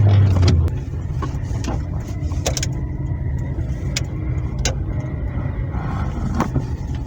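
Steady low engine rumble and road noise from inside a car driving through a town, heard close with occasional small clicks and bumps, and no speech.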